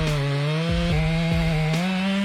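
A STIHL chainsaw cuts into a tree during logging, its loud, close engine holding a steady high whine with brief dips in pitch as the chain bites into the wood, and no talking.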